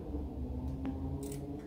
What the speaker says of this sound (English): I'm also going to use my scissors and clip right into the center fold